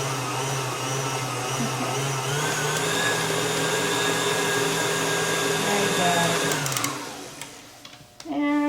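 An electric hand mixer whirs steadily through funnel cake batter, a continuous motor drone with harmonic whine that cuts off near the end, leaving faint clatter.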